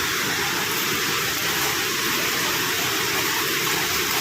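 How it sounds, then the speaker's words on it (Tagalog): A waterfall roars in a dense, steady rush of falling water that is loud and close, filling the whole few seconds without a break. "andito na pala tayo sa waterfalls"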